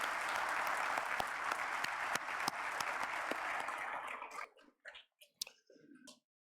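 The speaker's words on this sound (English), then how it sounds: "Give them a huge round of applause." Audience applause at a winter nursing commencement ceremony: dense, steady clapping from a large crowd for about four seconds, then fading into a few scattered claps and quiet murmurs.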